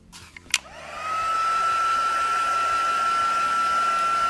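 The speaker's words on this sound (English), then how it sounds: "we're going to give that a heat set" A craft heat tool is used to heat-set chalk ink: a click and brief rustle, then a fan motor spins up into a steady, loud, high whine with a constant airy roar close by.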